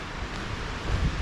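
Wind blows steadily across an open hillside near Aberfeldy, a continuous broad rush with low buffeting gusts striking the microphone.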